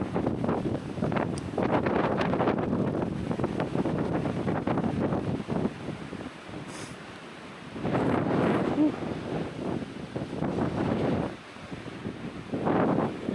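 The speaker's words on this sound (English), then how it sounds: "It is windy." Strong wind buffets the microphone in gusty roaring waves, with brief lulls between blasts, outdoors and close, atop Hunter Peak in Guadalupe Mountains National Park.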